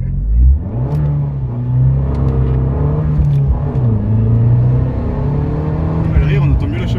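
An Abarth 595 Pista with a Stage 1 tune and Monza exhaust line revs loudly and close by, its engine climbing and falling in repeated pulls, the exhaust note rumbling and buzzing throughout.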